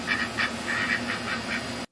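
A duck quacks repeatedly in a steady series of bursts, close and fairly loud over a constant background hum, with no talking, cutting off abruptly at the end.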